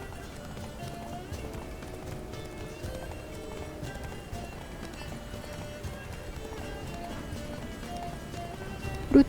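A horse gallops in The Witcher 3: Blood and Wine, a steady rhythmic clip-clop of hooves running continuously at moderate volume with game ambience underneath.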